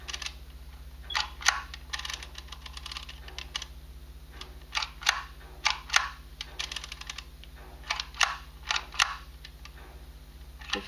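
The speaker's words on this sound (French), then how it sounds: "Et là, je peux commencer à embosser." A mechanical embossing label maker punches letters into tape with sharp plastic clicks, irregular single and clustered snaps over a faint steady hum, close and fairly quiet with no talking.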